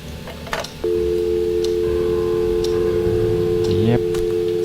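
A telephone call is dialed in the horror adventure game Scratches, heard as a steady, fairly loud dial tone, then a quick run of rising dialing beeps near the end.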